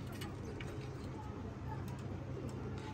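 Pigeons of the Kasni Firozpori breed cooing softly and steadily in a close pair over a constant low background hum, with no talk.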